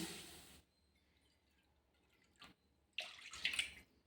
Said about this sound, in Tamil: இப்போ நம்ம இதே கடாயில் தண்ணி வச்சுக்கலாம்